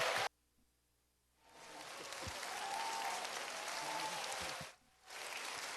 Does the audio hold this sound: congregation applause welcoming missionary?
yes